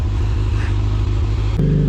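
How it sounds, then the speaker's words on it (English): Superbike on its stock exhaust, revving in a deep, loud, pulsing rumble right up close, with a sharp change in tone near the end as the revs shift, no talk. "This is the stock exhaust, how it sounds."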